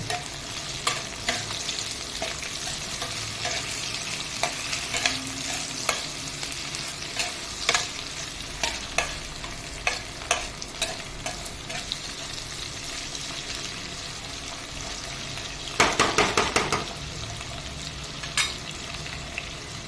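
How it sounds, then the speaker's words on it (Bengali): Spices sizzle and fry in a pan with a large tomato and two slit green chilies, cooked for a katla fish head and taro leaf dish; a steady hiss runs throughout, with repeated sharp spatula scrapes and a louder burst of stirring near the end. "এবার এতে আমি দেবো একটা বড় সাইজের টমেটো আর দেবো দুটো চেরা কাঁচা লঙ্কা দিয়ে মশলাটাকে একটু কষবো।"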